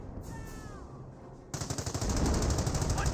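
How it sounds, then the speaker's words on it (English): An MG42 machine gun fires in Company of Heroes, breaking in suddenly as a rapid, loud, continuous burst of rhythmic shots after a quieter stretch of ambient battle sounds. "Force getting suppressed by another MG42."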